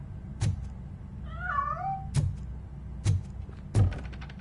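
A cat meows once, a clear wavering cry in the middle, inside the Robocop game on PS5, set against a low hum and several sharp thuds before and after.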